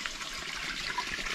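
Water sprays steadily from an outdoor shower on a hot, muggy day in the Kimberley, a continuous hissing rush of good pressure, close and even throughout, with no talking.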